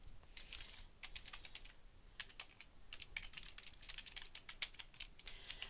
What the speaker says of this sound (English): Let me just quickly type this again.